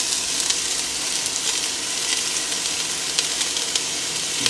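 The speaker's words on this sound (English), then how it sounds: "we're just going to cook the onions, carrots, and celery for about 5 minutes on medium-high heat" Chopped onions, carrots and celery frying on medium-high heat in a pan for a Bolognese base, a dense, steady sizzle and hiss throughout with light crackles, close and without voices.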